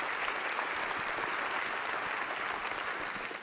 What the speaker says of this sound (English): One more round of applause for Lance.